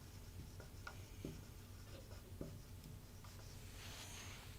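Pen or marker writing during a Class 9 geometry lesson on quadrilaterals, a faint scratchy rubbing in short strokes over a low steady background hum.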